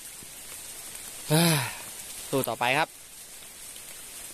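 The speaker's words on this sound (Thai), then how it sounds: "โอ้โหฝนตกตั้งแต่ตี 5" Rain falls steadily during a mountain hike at Phu Soi Dao in September, a soft continuous hiss throughout, while someone briefly speaks over it.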